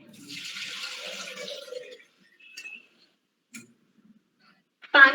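Water runs and splashes into a clay cooking pot for about two seconds, followed by a few soft clinks and taps, then a brief voice at the very end.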